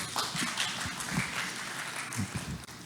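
Faint, steady applause from an audience at a Sunday Bible school session, continuing for a few seconds at low level with a few low murmurs mixed in.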